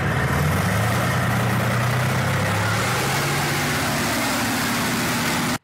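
A tank engine idles after warming up, a steady loud low rumble with a constant mechanical drone that cuts off abruptly at the end, with no voices.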